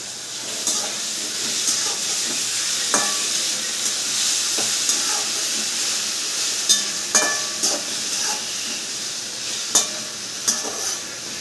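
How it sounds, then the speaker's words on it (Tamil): Onion and tomato sauté in a pan with salt added, a steady frying sizzle and hiss carrying scattered stirring clicks and scrapes of the spoon, close and alone with no talk. "வெங்காயம் தக்காளி வந்து வதங்கிறதுக்கு கொஞ்சமாக சால்ட் உப்பு போட்டுக்கலாம்."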